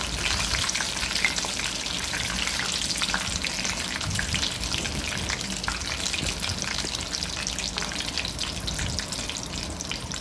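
Curry leaves and cashews frying in oil for a pongal tempering, a dense, even crackling sizzle that holds steady and fairly loud from start to finish without pause.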